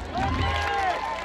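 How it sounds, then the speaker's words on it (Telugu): Live audience at a festive stage event clapping hands loudly together, a dense continuous crowd applause with some cheering, steady and full for the length of the clip. "గట్టిగా క్లాప్స్ కొట్టండి."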